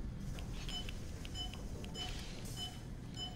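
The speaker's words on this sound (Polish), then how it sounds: "Groźne pikanie słyszę." Menacing electronic beeping in the video game F.E.A.R. 2: Project Origin, a few short high tones repeating irregularly over a dense low rumbling game ambience.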